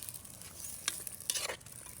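Papaya stirred with black pepper in a hot pan, a soft sizzle with quick scraping and stirring strokes in a couple of short bursts, quiet and close.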